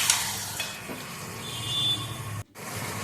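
Whole black peppercorns stirred in a hot frying pan for a mutton stew, giving a steady soft sizzle with scraping stirs that cut out briefly near the end.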